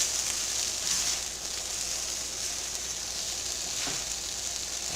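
Home-canned corn and asparagus simmer in their own juices in a pot, giving a steady, soft bubbling sizzle that stays even throughout with no talking.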